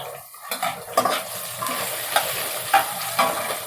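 Curry leaves, green chillies and a split dried red chilli frying in oil for South Indian coconut rice, a close moderate sizzle with several sharp crackling bursts and spoon clinks against the pan.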